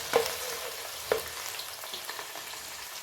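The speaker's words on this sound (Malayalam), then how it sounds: "ഇതിലെ വെള്ളത്തിൻ്റെ അംശം ഉള്ളിൽ പോണ വരെ നല്ലോണം മൂപ്പിച്ചെടുക്കണം." A pan of chopped pieces fries until its moisture cooks off, giving a soft continuous sizzle with a couple of sharp spatula taps near the start and later.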